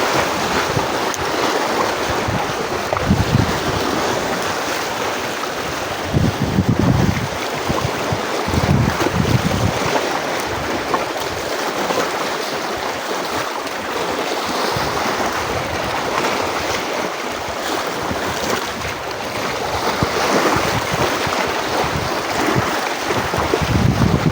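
Water waves wash and surge continuously at Calubacan, Cardona, Rizal, Philippines, mixed with heavy wind buffeting the microphone, loud and close throughout with no voices.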